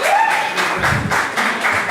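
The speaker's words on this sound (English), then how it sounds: "a round of applause for Addie behind the bar." Loud audience applause at a live bar event, a dense, close wash of many hands clapping that carries on steadily, with a voice briefly audible at the start.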